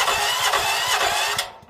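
A Stanley petrol generator engine cranks on a key start, giving a steady broadband whirring with a fast, even rhythmic pulse that cuts off abruptly near the end, close and fairly loud, with no voices.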